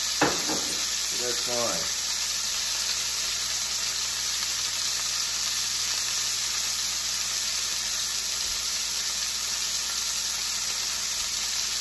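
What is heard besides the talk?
oil sputtering and sizzling while pan-frying steak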